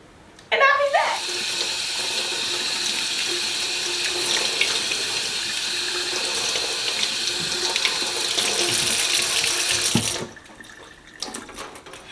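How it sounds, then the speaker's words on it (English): Cold tap water runs steadily into a sink to rinse homemade butter, a loud continuous splashing that lasts about ten seconds before the tap shuts off, followed by a few faint handling sounds. "I'm gonna run this under some cold water."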